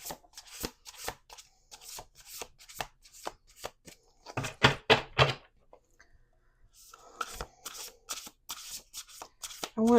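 A deck of tarot cards being shuffled on a table, giving repeated sharp riffles and snaps in quick bursts, with a dense flurry midway and more close, crisp card flicks near the end.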